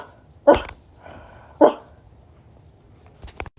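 A person imitates dog barks and growls while wearing a muzzle, two sharp, close bark-like bursts about a second apart followed by softer breathy growling and a brief final bark.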